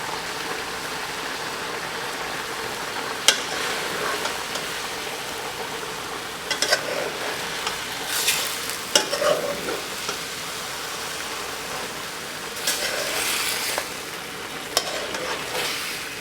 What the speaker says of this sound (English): As you stir fry, your experience, the aroma is undescribable.